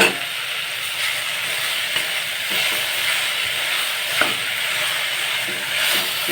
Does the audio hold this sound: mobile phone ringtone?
no